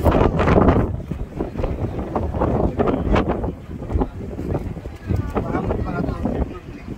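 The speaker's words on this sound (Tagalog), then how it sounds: "Buti nga mahangin." Gusty wind buffets the microphone in rough, rumbling bursts while people talk over it.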